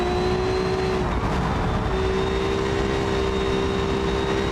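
A Formula Three race car runs flat out on a lap of a Belgian Grand Prix practice session, a steady, loud high-pitched engine scream holding near-constant pitch with only a slight dip, continuous and without talk.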